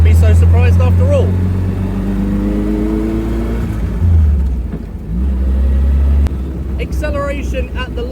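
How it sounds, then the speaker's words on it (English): A 1937 Morgan F2 three-wheeler with a dogleg manual gearbox drives along, its engine giving a close, loud, continuous low drone whose pitch rises and falls as the revs change, with a brief dip midway. "There's a lovely little engine note"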